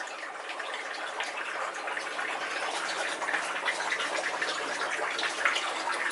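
Water pours steadily out of a full tub beside a mini pond, a continuous splashing gush that stays close and fairly even with no voices over it.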